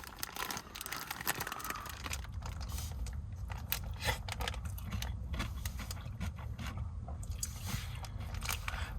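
A walking taco with salsa being eaten in a camping truck, with close crinkling of a snack bag and crunchy bites and chewing over a low steady background rumble, no talking.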